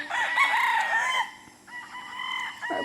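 A Boston White gamecock rooster crows twice, the first a loud ringing call and the second a shorter, softer one, heard close up with faint farm noise between the crows.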